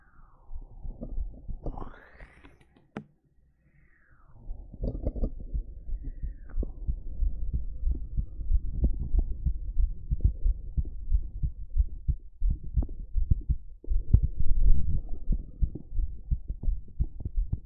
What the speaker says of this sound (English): let's have some heartbeat again.